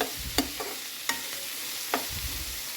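Two tomatoes dropped into a hot pan, then stirred with quiet frying underneath: a few sharp utensil scrapes and clacks spaced out over a low, soft sizzle, close and fairly quiet, with no talking.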